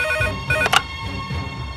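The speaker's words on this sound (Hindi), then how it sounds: "चौबे जी सर, फोन उठावा।" A telephone in a police station office in a Bhojpuri film rings with a repeating electronic ringtone, close and clear, its bursts overlapping a sharper bell-like chime midway.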